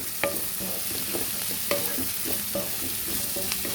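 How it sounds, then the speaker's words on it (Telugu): Two large onions and garlic fry in a pan, giving a continuous sizzle broken by regular scraping stir strokes, close and fairly loud, with no talking. "ఇవి కూడా వేసి బాగా వేయించుకోవాలి."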